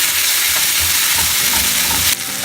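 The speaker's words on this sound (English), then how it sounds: "Now dropping in garlic paste," Ginger and garlic paste sizzles steadily in a hot pan over caramelized onions, a continuous close frying hiss with light stirring scrapes throughout and a sharper burst near the end.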